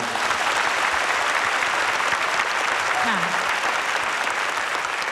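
Dense, steady audience applause fills a hall at a Thai award presentation and stays loud and even throughout, with a voice briefly audible beneath it.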